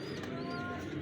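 A male and a female blue Dumba pigeon give a brief low coo against dense background noise, close and steady.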